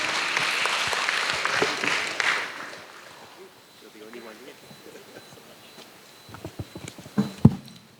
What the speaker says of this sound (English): give a great round of applause to our very distinguished speakers